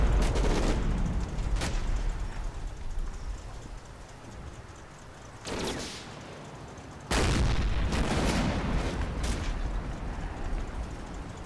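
Machine gun fire rattles in Combat Mission: Battle for Normandy, with loud sharp bursts at intervals over a constant hissing, rain-like background roar.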